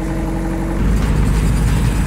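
A Suzuki Samurai 4x4 drives along with worn, loose driveshaft cross joints, giving a close, loud low rumbling drone that grows heavier partway through with no voices.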